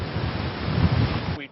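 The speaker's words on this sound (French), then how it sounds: "Le vent souffle encore très fort, attisé par les couloirs de building." Strong wind roars through the corridors between city buildings as a dense, low, continuous rumble of gusting wind that cuts off abruptly at the end.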